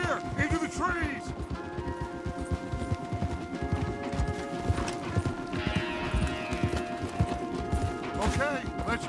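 Hooves clip-clop at a gallop as horses ride hard through trees in Red Dead Redemption 2, a steady rhythmic pounding with occasional whinnies, heard under speech and game music.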